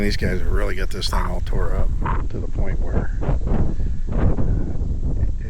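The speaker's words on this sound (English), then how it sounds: "Sorry about the wind, by the way. It just turned windy." Wind buffets the microphone with a low, rumbling roar that runs steadily beneath someone talking throughout.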